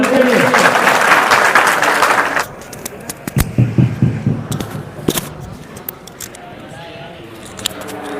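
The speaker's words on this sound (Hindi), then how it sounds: "तालियां तो बजा दो उनके लिए।" Audience applause at a Raksha Bandhan gathering inside Mathura district jail, greeting a drama presented by two Brahma Kumaris brothers; dense clapping for about two seconds, then stopping abruptly, with a few scattered claps and talk afterwards.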